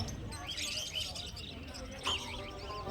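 Budgerigars chirp and tweet in short bright bursts at a busy bird market, under a voice and crowd chatter.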